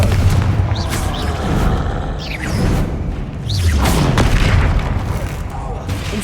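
Repeated blasting-spell explosions, the Confringo spell in the video game Hogwarts Legacy, heavy booms with swishing whooshes arriving every second or two while a voice calls out spell names between them.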